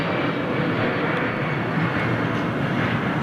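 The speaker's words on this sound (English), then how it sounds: "Here we go. Boeing 777, British Airways." A British Airways Boeing 777 jet at an airport gives a steady, loud broadband engine roar that holds constant throughout, with no speech.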